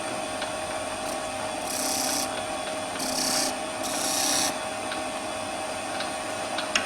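A skew chisel cuts a V-groove into wood spinning on a lathe, giving a steady scraping rub with three brief, brighter cutting bursts over the constant hum of the machine.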